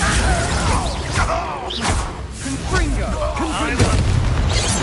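A Bombarda blasting spell goes off in Hogwarts Legacy, a loud, dense boom and crash that fills the whole clip, mixed with swirling magical effects and game sound.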